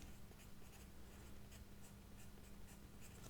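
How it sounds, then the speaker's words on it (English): A pencil scratches across paper while a map outline of southern Africa is labelled, soft close scribbling strokes in a quiet room with a faint steady hum beneath. "And I might, with my trusty pencil, write"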